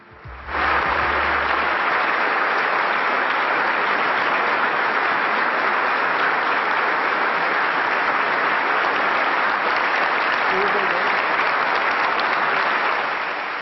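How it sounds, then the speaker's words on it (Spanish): Business audience giving a prince a standing ovation, sustained, even, dense applause lasting throughout, steady and fairly loud with only faint crowd murmur. "Los aplausos hoy eran para él. Una cálida ovación que ponía al príncipe en pie durante más de un minuto."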